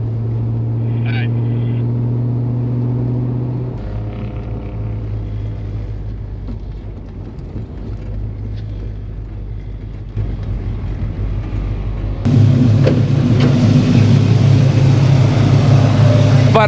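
An older car's engine hums steadily while driving to a gas station on a long road trip. The drone is loud and constant, and it rises sharply to a harsher, louder roar near the end as the throttle opens.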